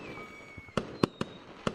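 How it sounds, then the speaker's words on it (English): Fireworks launching in the video game Gorilla Tag: a thin rising whistle, then four sharp, close pops in a quick irregular burst. "I have actually never seen the fireworks get launched before."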